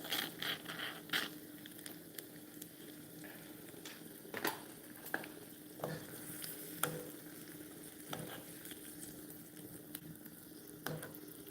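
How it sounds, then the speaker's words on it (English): Cooking cream hitting a hot pan for chicken alfredo, producing a soft continuous sizzle and bubbling with scattered faint ticks and stirring sounds, fairly quiet. "We're going to spill all our cooking cream."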